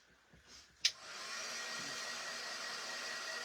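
A hair dryer runs steadily after a brief click and rising whir, drying paint on a small spring craft piece that was just lightly sanded. The even blowing hum holds close and continuous with no talk.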